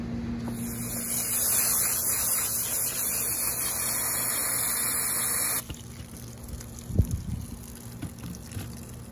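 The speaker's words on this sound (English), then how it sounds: "So we're gonna just kind of try and rinse off the soil and see how that goes." Running water rinses soil off the roots of a bonsai tree, a steady gushing spray under a constant mains hum that cuts off partway through, followed by a few faint knocks and splashes.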